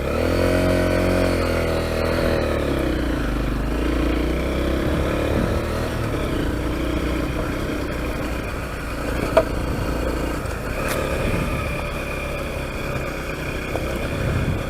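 A Honda CRF250L motorcycle is ridden with its single-cylinder engine droning steadily and loudly, the pitch shifting as it slows and picks up again, with a brief knock near the middle.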